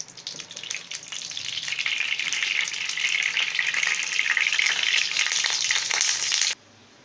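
Oil in a hot pan sizzles and crackles steadily while cooking potato cutlets, building from a light fizz to a loud, continuous frying hiss that stops abruptly near the end, with no voices.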